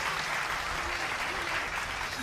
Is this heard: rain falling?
no